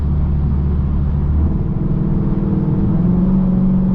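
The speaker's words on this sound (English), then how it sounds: "you can hear a really abrupt shift when it switches to 8 cylinders" A Dodge Charger Pursuit with a Hemi V8, accelerating as it switches from four to eight cylinders, holds a loud steady low engine drone, with a shift in pitch partway through and no talk.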